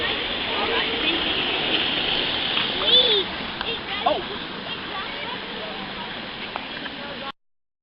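Creek water at the Blackheath Glen causeway in the Blue Mountains, NSW, rushes and splashes in a steady close wash of noise for about seven seconds, then cuts off.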